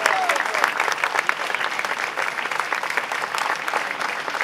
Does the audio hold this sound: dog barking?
no